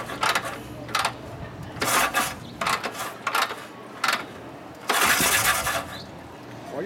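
A 1973 Harley-Davidson Shovelhead chopper with a 74 cubic inch engine and a freshly rebuilt carburetor is being kicked or cranked repeatedly. The engine gives several short mechanical bursts before a longer spell of running near the end.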